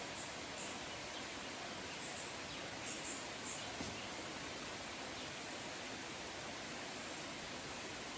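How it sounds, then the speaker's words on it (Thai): Natural flowing water makes a soft, continuous rushing hiss, steady and faint throughout, with no voices. "ได้ยินเสียงน้ำไหลตามธรรมชาติ"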